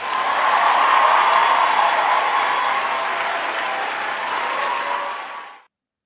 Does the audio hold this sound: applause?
yes